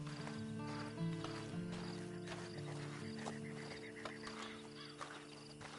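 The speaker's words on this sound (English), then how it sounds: "Then you better get on this horse." A horse in a PS4 video game clip-clops along at a walk, faint, steady hoofbeats under a sustained musical drone with occasional whinny-like tones.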